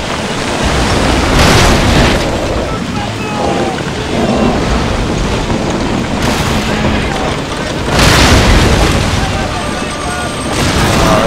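Ship cannons firing during a naval battle in the strategy game Empire Total War, heavy booming blasts at irregular intervals over a continuous rumbling roar.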